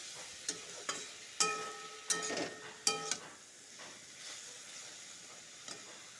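Cumin powder stirred into Malabar spinach curry frying in a pan, giving a steady sizzle broken by several scraping strokes of a spoon against the pan, close and fairly quiet.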